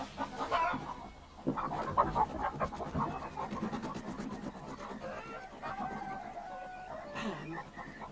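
Chickens cluck and squawk at close range in an irregular, busy stream, with occasional louder calls and faint rustling in the background.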